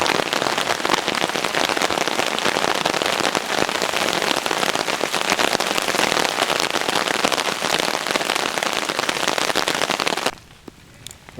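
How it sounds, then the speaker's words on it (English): Steady, dense rain pattering on a taut tarp overhead while hammock camping, loud and continuous, with scattered sharper drops, then stopping abruptly near the end. "Lovely sound though, again, rain on top."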